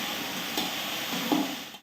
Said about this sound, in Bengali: এই যে আলু ভাজবো